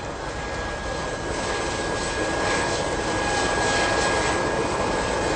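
A steady, loud aircraft engine drones and hisses as the plane's door opens at an official airport arrival ceremony, a constant roar with a thin high whine that swells slightly toward the end, with no talking.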